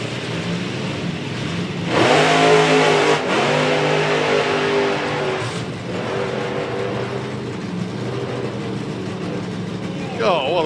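A drag racing car at a 2019 drag meet accelerates hard down the strip with a loud, rising engine roar that holds, dips, then continues as a strained drone, while a commentator talks over it.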